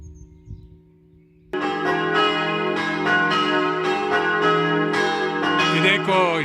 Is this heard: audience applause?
no